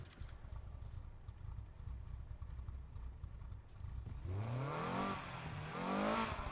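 Low rumble with faint clatter from a stock car engine in the video game Need for Speed Heat, then the engine revs up in rising sweeps, growing louder toward the end.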